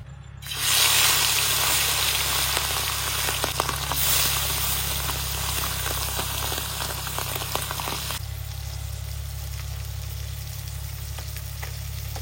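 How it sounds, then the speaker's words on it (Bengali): Small puti fish, coated in salt and turmeric, fry in hot oil in a pan with a loud, steady, close sizzle that starts abruptly and continues throughout, easing slightly in intensity partway through. "এবার মাছটা ভেজে নেবো।"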